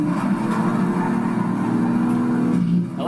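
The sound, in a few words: Nissan Z Proto engine revving in Project Cars 3 video game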